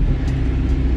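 Steady low engine rumble and road drone fill the cabin of a moving BMW, loud and continuous with no talking.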